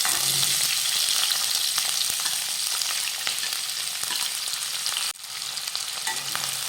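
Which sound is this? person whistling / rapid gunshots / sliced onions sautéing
sliced onions sautéing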